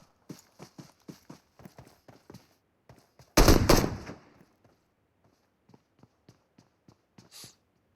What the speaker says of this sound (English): Nah, I guess just shooting some bullets off.